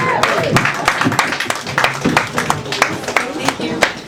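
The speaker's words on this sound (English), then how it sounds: "let's have a big round of applause for Emma Cranston" Scattered clapping from a small audience at an open mic night, welcoming a poet to the stage; individual hand claps ring out near and uneven over about four seconds, with voices murmuring and talking underneath.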